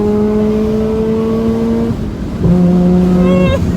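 A Mazda RX8 rotary engine revs hard to a high-pitched, sustained wail near 9,000 RPM, drops briefly on a gear change, then screams up again, loud and close with a smooth, buzzing tone.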